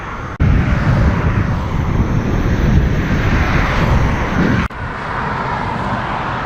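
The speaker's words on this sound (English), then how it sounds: "Got a lot of headwind right now." Strong headwind buffeting the microphone while cycling, a loud continuous low roar with a brief cut near the end.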